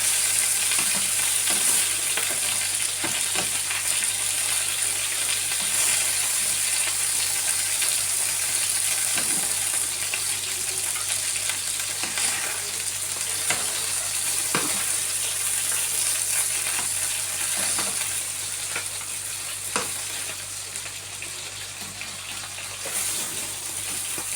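Tomatoes sizzling and frying in oil on a large grill, a loud continuous crackle and hiss that runs unbroken for over twenty seconds with scattered pops and occasional scraping.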